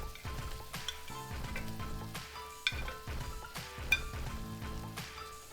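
Scallops return to a pan of tikka masala sauce and sizzle steadily, with stirring and a couple of sharp utensil clinks against the pan.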